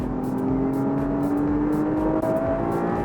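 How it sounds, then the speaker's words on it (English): A Porsche Boxster GTS 4.0 engine revs hard, its loud, high-pitched note rising steadily and continuously, heard close and alone without talk. "there it is, that high pitched note, and that comes in just above 4"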